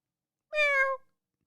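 A single cat meow, clear and close, lasting about half a second with a rising-then-falling tone in otherwise near silence.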